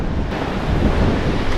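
Ocean waves and gusting wind during a monsoon off Batanes, heard as a loud, continuous roar of surf with heavy wind buffeting the microphone and no talking.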